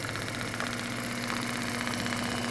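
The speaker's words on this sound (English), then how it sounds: "So now that I've turned, I'll carry on sewing." A sewing machine stitches a seam just short of a corner in a shop that does skydiving services. Its motor gives a steady, close, continuous whirring hum with a faint rhythmic pulse, and no one speaks.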